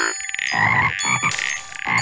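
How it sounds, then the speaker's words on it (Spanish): Frogs croak in a chorus in a Curious George game, loud overlapping rhythmic croaks with bright musical tones layered over them, and no talking. "Buen trabajo añadiendo ranas al coro."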